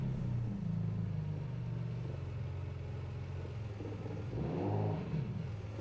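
A Nissan R35 in a racing video game on a race track, its engine droning steadily on nitrous with a rising rev sweep near the end, moderately loud and without voices.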